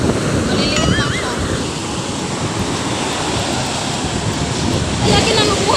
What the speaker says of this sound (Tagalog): Lakas yung alon.